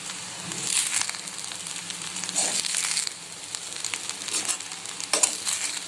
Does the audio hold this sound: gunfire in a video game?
no